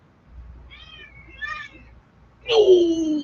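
A cat meows three times, two short soft calls followed by a louder, drawn-out, falling meow, all close and clear with no talk.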